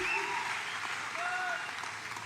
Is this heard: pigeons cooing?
no